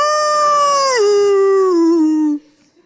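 A single sustained howl-like voice, loud and close, gliding downward in pitch and wavering before cutting off abruptly; a stand-up comedian on stage imitating a wild dog.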